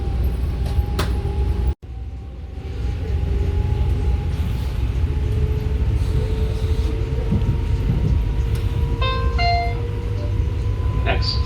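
A light rail train runs from Baltimore harbor toward BWI airport with a continuous low rumble and rolling hum inside the car, a brief dropout and faint tonal chimes, with people talking over it.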